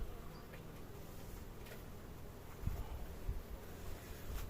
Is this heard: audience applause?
no